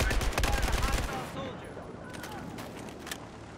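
Gunfire in the video game Battlefield 4, a loud burst of rapid shots in the first second, then scattered quieter distant shots and battle noise, with voices talking over it.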